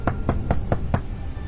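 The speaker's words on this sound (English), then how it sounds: "there was a knock at the door" Five quiet, evenly spaced knocks on a door, close by, with no voices present.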